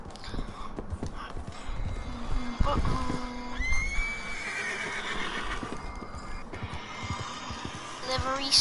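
A horse whinnies loudly in Red Dead Redemption 2, a sharp neigh followed by a drawn-out descending call, with hoof clip-clops and game ambience around it and people talking over parts of it.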